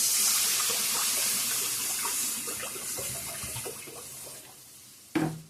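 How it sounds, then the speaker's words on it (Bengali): Water pours steadily from close by into a cooking pot of spiced oil for a fish curry, a continuous rushing flow that slowly tapers before a sharp clink at the end. "জলটা দিয়ে দেব।"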